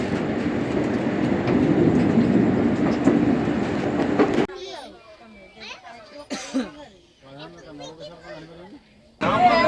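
Inside the Shalimar Puri Express while it moves, a loud steady rumble of the carriage runs for several seconds, then drops away to quieter cabin sounds with scattered voices and clatter.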